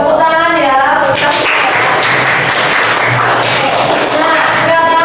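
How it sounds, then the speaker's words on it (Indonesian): A classroom of students bursts into applause after a short spoken line, the clapping loud and close, building into a thick continuous patter for several seconds. "tepuk tangan"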